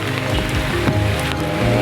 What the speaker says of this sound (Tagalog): Malakas po ang ulan doon.